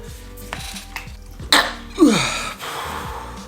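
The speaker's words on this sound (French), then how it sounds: "Infernal ces éternuements." Repeated sneezing from a person with a blocked nose, two sharp sneezes a half-second apart amid light background clatter, each a loud burst with a breathy tail.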